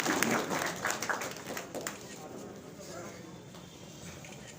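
A crowd at a BJP honour ceremony claps to welcome a popular leader, a burst of fairly close applause that tapers off under continuing crowd noise and talk.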